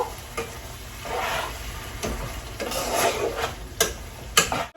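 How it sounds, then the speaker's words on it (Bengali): Taro sizzles in spices in a hot pan while a utensil stirs and scrapes, with a few sharp clinks against the metal. "এখন আমি কচুগুলো দিয়ে ভালো করে কষায় নিব"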